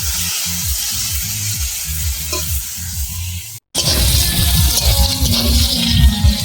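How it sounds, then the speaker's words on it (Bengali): Broad beans sizzle steadily in a hot frying pan, with a rhythmic scraping of stirring throughout and a brief cut partway through; close, loud and free of speech. "সিমটা যাতে নরম হয়ে যায়, তাড়াতাড়ি ভাজা হয়ে যায়, ওই জন্য আমি একটু লবণ দিয়ে দিলাম"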